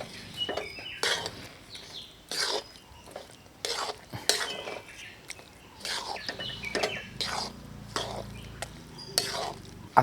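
Jaggery being stirred into cooked dal in a pot for puran, with repeated spoon scrapes and clinks against the metal in uneven bursts, close and fairly quiet.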